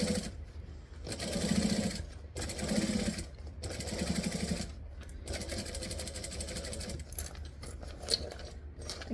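A sewing machine stitches a zippered fabric bag in bursts of rapid, even needle chatter, pausing briefly between runs as the fabric is pivoted around corners, close and fairly loud.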